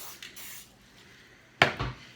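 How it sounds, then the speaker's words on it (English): A short hissing spray burst, close and fairly loud, after a stretch of quiet with faint clatter. "I'm going to lightly grease it by just spraying some canola oil across it"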